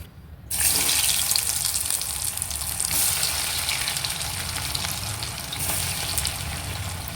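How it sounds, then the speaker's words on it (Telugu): Honey chilli potatoes fry lightly in hot oil, giving a steady, dense, loud hiss and sizzle that starts abruptly and holds without letting up, with no talking. "ఇప్పుడు దీన్ని మనం ఆయిల్లో ఫ్రై చేసుకోవాలి లైట్ ఫ్రై చేసుకోవాలి"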